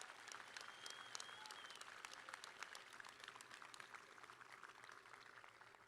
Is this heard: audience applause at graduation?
yes